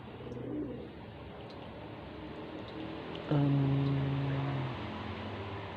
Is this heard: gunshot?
no